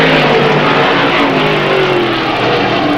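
Race cars run in a tight pack around the Airborne Speedway half-mile oval, a loud sustained engine roar with rising and falling pitch as the field circles past.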